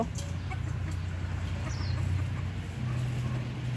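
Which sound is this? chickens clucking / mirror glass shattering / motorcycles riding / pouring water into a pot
chickens clucking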